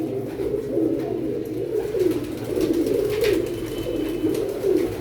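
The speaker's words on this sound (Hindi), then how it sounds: "एक ये कबूतर सियालकोटी" Sialkoti pigeons coo in soft, repeated throaty rolls, close by and continuous, with faint background noise and no speech.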